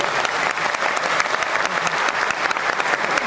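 An audience at a thank-you ceremony in Delhi's Chandni Chowk claps loudly and continuously in a dense, rattling burst of applause.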